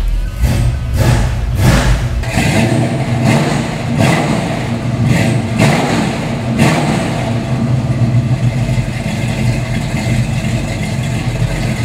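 A 1970 Ford Mustang Boss 302 V8 revs hard in a quick series of loud, sharp blips, then settles into a few spaced revs over a rough, lumpy idle, close up with no talking.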